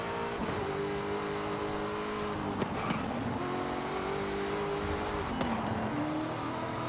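An S1-class race car in Forza Horizon 5 drives with a steady, loud engine note that rises and falls through gear changes, with brief tire noise.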